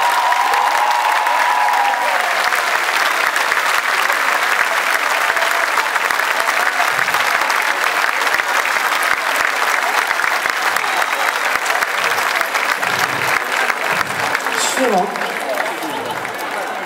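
Dense, sustained audience applause fills an outdoor Roman theatre during a live concert where a mother and daughter sing on stage. The clapping stays loud and even throughout, with faint crowd voices mixed in.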